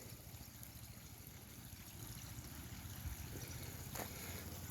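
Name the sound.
water trickling in a man-made creek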